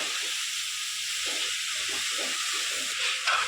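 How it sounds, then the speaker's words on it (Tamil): Mushrooms are stirred into softened onions frying in a pan, a constant soft hiss with muffled stirring thuds underneath and a brief louder scrape near the end, heard up close. "இப்போ காளான் வந்துட்டு நல்லா கிண்டி விட்டுக்கலாம்."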